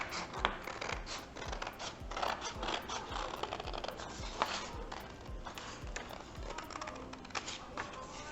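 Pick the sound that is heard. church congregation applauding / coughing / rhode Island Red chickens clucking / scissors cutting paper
scissors cutting paper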